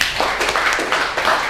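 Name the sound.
applause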